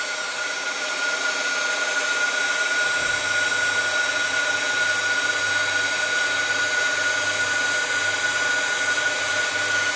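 A heat embossing tool runs steadily at close range, melting embossing powder on paper for a Christmas table decoration: a loud, even blowing whir held throughout, with a low motor hum joining after a few seconds.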